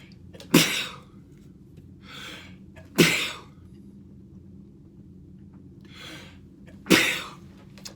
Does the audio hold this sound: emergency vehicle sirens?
no